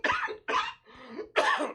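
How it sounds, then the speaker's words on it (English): A person gives three harsh coughs in quick succession, close and loud, with short pauses between them and a throaty rasp in the gap. "coughing that shit out"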